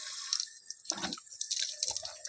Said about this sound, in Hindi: आइए चेहरे को धोते हैं। इस तरह से पानी लेंगे